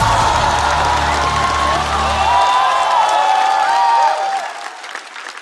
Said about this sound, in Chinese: 来，让我们把热烈的掌声送给4位优秀的 rapper。